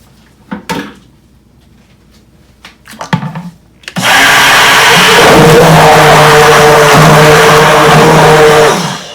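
A blender roars loudly and steadily mixing olive oil castile soap batter after a few quiet clicks and knocks, its motor whirring on without a break.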